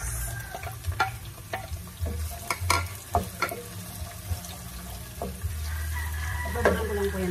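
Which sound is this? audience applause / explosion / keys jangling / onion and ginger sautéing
onion and ginger sautéing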